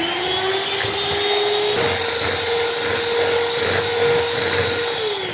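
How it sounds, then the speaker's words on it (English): An electric whisk beats three eggs into a cake mixture with a steady, close, continuous whine, holding one pitch before dropping slightly near the end, with no talking. "Then whisk it too."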